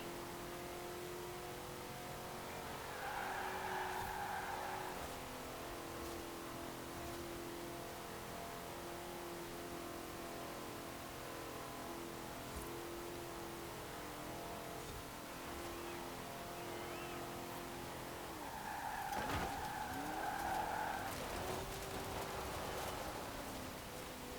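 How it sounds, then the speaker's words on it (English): A Holden Monaro slides through a drift in the Forza Horizon 4 racing game, its engine droning at a steady low level with two louder revving surges near the start and end. "Sure do sliding around in these kind of cars, especially when they're able to hold the slide like this"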